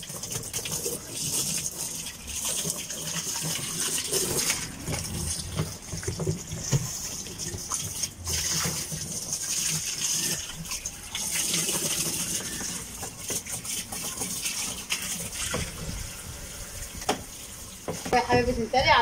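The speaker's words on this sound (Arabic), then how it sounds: "افتح لها الصرف كده زي ما انتم شايفين وبغسل الميه كلها اهي" Water drains out of a washing machine tub after the drain is opened on a rooftop, a steady rushing, splashing flow with occasional clinks, heard alongside someone talking.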